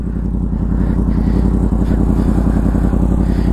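A Yamaha MT/FZ-10 motorcycle engine runs at a steady idle, loud and close, with a constant low throbbing rumble and no voices.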